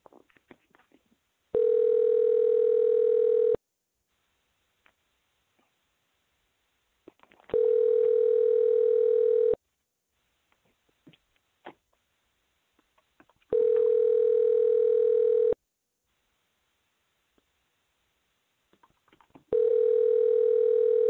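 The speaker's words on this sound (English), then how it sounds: "You're going to hear the phone ring" A telephone rings on a conference call line: a steady electronic ringback tone repeats four times, each burst about two seconds long and spaced about six seconds apart, with near silence between.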